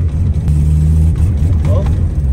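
A 1994 Nissan Sentra with an engine fault holds a loud, close, low engine drone that rises and falters as it cuts off at about 2,000 RPM, with someone talking over it.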